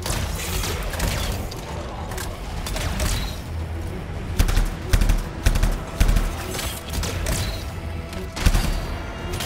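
Rapid automatic gunfire and explosive impacts from the sci-fi shooter game Anthem, dense continuous bursts with sharper loud hits throughout, no talk.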